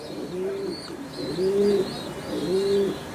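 A racing pigeon cooing close by, giving three soft, rounded coos spaced about a second apart over a quiet background.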